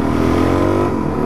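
A Kawasaki Ninja motorcycle revs up nearby at night, a steady loud engine drone with harmonic whine holding throughout, no talk.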